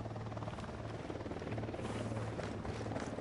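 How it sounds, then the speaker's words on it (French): In the Ghost Recon video game, an enemy helicopter drones steadily with a throbbing rotor chop, moderately loud and continuous, with no voices over it. "Un hélico d'unidad."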